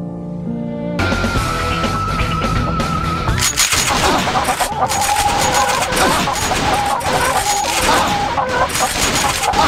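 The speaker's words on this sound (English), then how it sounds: "Bird shooting. Potion of two birds." Gunfire in the Granado Espada video game rattles off in rapid, dense volleys at birds during a shooting event, with clucking fowl mixed into a loud, continuous burst of shots and game sound.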